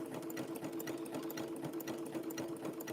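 A sewing machine stitches rope coils together for a fabric tea cup, running in a steady, even mechanical hum with quick regular needle ticks, close and alone.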